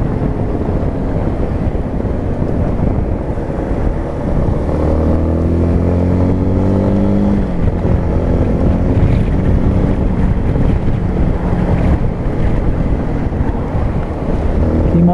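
A Yamaha XTZ Lander 250 motorcycle engine droning at highway speed with rising and shifting gear tones, heavy wind buffeting the microphone throughout; no talking.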